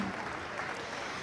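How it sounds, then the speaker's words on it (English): Steady applause from an audience at a youth steer show, a dense, even patter of clapping that holds at the same level throughout the short stretch. "let's go ahead and give a round of applause to these young people out here"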